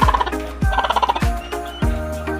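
A Bengala hen, sitting on eggs as they are placed under it, gives loud, harsh, close calls in a repeated, throaty gobbling rhythm.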